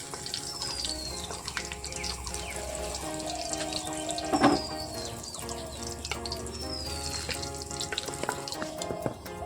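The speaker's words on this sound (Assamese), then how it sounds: "নহৰুখিনি ৰঙচুৱা হোৱালৈকে ভাজি লম" Garlic cloves fry in hot oil in a kitchen pan, giving a crackling sizzle with occasional clinks and stirring sounds, plus a brief louder clatter midway; no one speaks.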